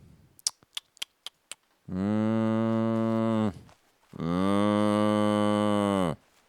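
A person imitates a cow, giving two long, loud, sustained moos one after the other, preceded by a quick series of sharp clicks or taps.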